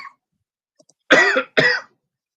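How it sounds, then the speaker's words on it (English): Two short, forceful coughs from a nearby person, close together, each a harsh throaty burst, heard alone after a near-silent stretch. "I'm over here coughing like you"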